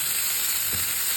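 Pork fat frying with garlic and onion hisses in a steady, bright sizzle close by. A single dull knock lands midway through, with no speech.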